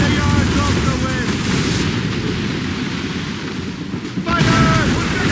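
Ship cannons in Assassin's Creed Rogue fire in loud, booming bursts across a naval battle. Shouted crew commands and ambient battle noise run underneath, with a brief lull in the middle before the roar picks up again.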